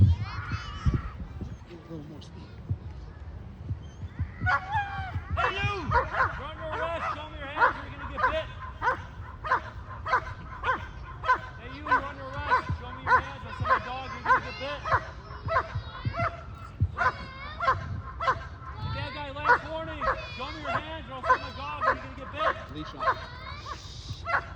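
A police K9 dog barks repeatedly and insistently during a demonstration, close by, in a fast steady rhythm that continues for over twenty seconds against low background rumble.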